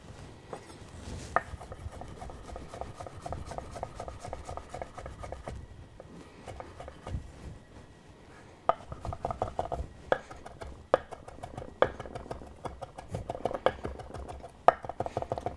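A French chef knife chops parsley rapidly on a cutting board, a quick run of crisp taps, then a pause before slower, louder, more spaced chops resume.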